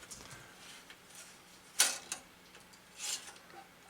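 A camera shutter dial is turned, giving a few quiet mechanical clicks, with one sharper detent near the middle, another soon after and a final pair later, all faint and isolated.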